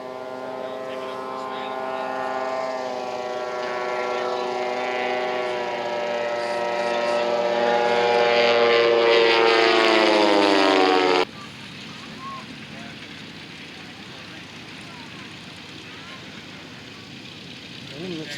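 A propeller airplane at a fly-in drones steadily nearby, its engine tone rising and swelling in loudness before cutting off abruptly, leaving quieter background noise and faint talk.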